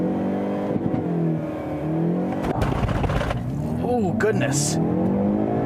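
A 2019 Hyundai Veloster launching hard with wheel hop, engine revving up loudly with rising pitch and a brief chatter of tires, heard from inside the car while a person exclaims over it.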